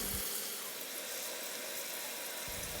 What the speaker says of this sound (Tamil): பேனில் கொஞ்சம் ஆயில் ஊற்றி ஃபிஷ்ஷை ஃப்ரை பண்ணி எடுத்துக்கலாம்.